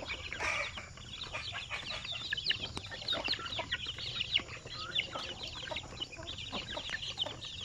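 Chickens cluck around the range area, a steady scatter of soft calls and rustling with occasional louder peaks, no voices present.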